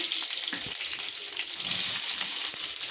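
Sliced onions hit hot oil after curry leaves in a pan for a potato curry, setting off a bright, continuous sizzle with small crackles and pops, close and steady throughout.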